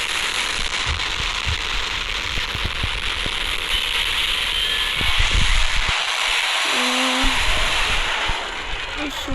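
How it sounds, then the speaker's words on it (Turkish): Rocket launched in the Minecraft Kaiju Craft mod, a crackling, fiery whoosh and rumble with hiss that builds over several seconds in a video game. "Şöyle birazcık da roket atayım."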